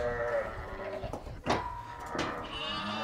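Sheep bleating in a pen on a farm, several calls in quick succession at close range, loud and clear over low farmyard background.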